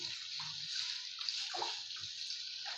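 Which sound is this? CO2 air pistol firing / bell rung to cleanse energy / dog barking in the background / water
water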